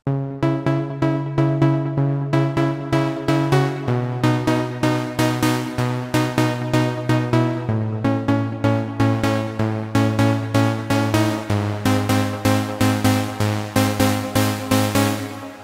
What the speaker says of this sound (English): Now let's move on to some Plucks.